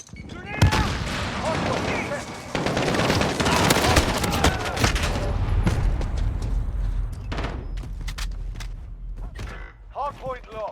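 Dense, loud gunfire and explosions in a Call of Duty: Modern Warfare multiplayer hardpoint match, with rapid bursts and booms running almost continuously, plus shouted radio-style voice callouts.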